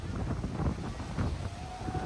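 Strong wind buffets the microphone at a sunny beach in Japan with big waves and surfboards offshore, a steady low roar of gusts running throughout, close and moderately loud with faint noise above it.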